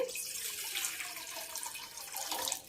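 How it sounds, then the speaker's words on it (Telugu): Water pours into a pan for moong dal and sago payasam, a close, steady splashing stream lasting a few seconds before tapering off. "వాటర్ పోసుకుందామండి."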